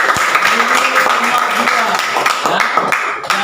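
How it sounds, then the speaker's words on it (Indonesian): Students in a classroom clapping together, a steady patter of many hands lasting a few seconds with a voice speaking over it. "Ya, tepuk tangan dulu ya."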